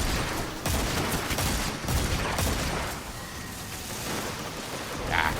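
Gunshots in the video game Dead Man's Tale: several sharp reports spaced out over a dense, hissing background wash, with a brief tonal blip near the end.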